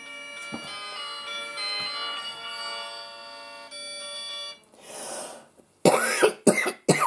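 A phone ringtone plays a steady, tonal melody for about four and a half seconds and then cuts off, followed by several loud, close coughs.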